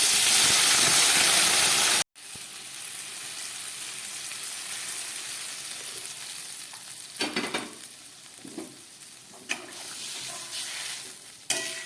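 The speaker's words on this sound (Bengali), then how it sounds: "এবার আমি দিয়ে দিচ্ছি এর মধ্যে জল, উষ্ণ গরম জল।" Warm water hits a hot pan of ridge gourd and potatoes fried with green chilli, salt and turmeric, giving a loud, close burst of hissing sizzle for about two seconds before settling into a steady, quieter simmering crackle with occasional spoon scrapes.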